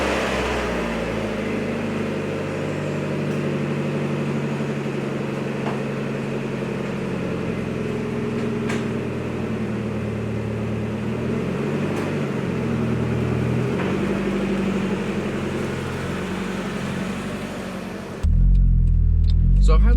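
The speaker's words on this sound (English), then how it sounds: "So let's go ahead and start her up and take her for a drive." Car fitted with a Good-Win Racing RoadsterSport 4 exhaust bolted to the stock downpipe, heard as a steady low engine drone while driving, then a louder burst near the end; no speech.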